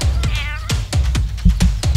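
A cat in the road meows repeatedly, giving a series of loud, close, short meows in a quick, uneven rhythm with no one talking over it.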